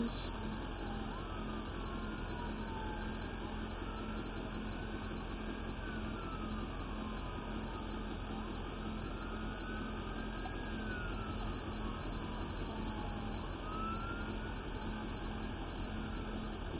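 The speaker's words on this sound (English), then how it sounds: "I hear the sirens." Emergency sirens wail faintly in the distance, rising and falling in slow sweeping tones over a steady low rumble of traffic.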